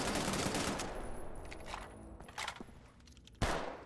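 Video game gunfire rattles in quick, dense bursts at a low, distant level, then fades and ends with one sharper, louder shot.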